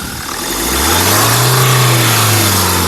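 A 2016 Mahindra Scorpio S4 Plus diesel SUV engine revs up from idle, its low rumble rising and holding steady at higher revs for a couple of seconds, close by with no talking.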